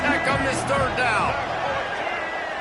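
Stadium crowd roaring at a Texas Tech college football game on a third down, a dense, steady wall of cheering and babble with announcer commentary over it throughout.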